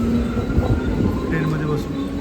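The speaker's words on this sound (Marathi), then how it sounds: "आता मुंबई सेंट्रलला पोचलो आहोत. ट्रेन आता लागेल." A train pulls into Mumbai Central station early in the morning, its loud rumble and rolling rail noise filling the space with faint squeals, while people talk nearby.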